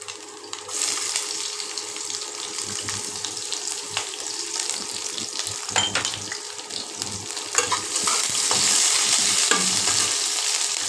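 Chopped onions sizzle in a pan while cooking ghugni, with occasional stirring scrapes, the frying hiss swelling louder toward the end; no one speaks.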